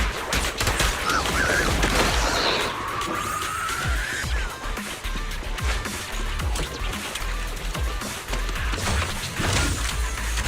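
Sustained automatic gunfire from the Zenless Zone Zero video game, a dense continuous barrage of rapid shots running loud and close for the whole stretch, with a rising whine partway through and no talking.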